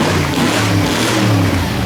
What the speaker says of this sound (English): Let's hear that engine.